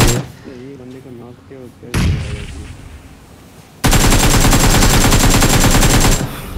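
Gunfire in the mobile battle-royale game PUBG Mobile: short bursts of shots early on, then loud, sustained automatic fire that fills the last few seconds, with no one talking over it.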